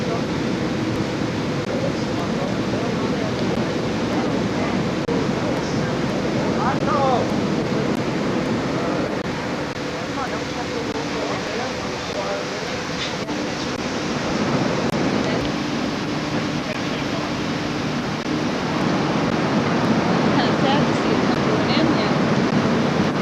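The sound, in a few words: waterfall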